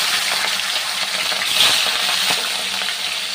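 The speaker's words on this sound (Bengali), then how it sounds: "তো দেখো এই তেলে আমি মাছগুলোকে ভেজে নেব।" Katla fish pieces frying in hot oil in a home kitchen, a continuous dense sizzle with small bubbling crackles, close and fairly loud with no talking.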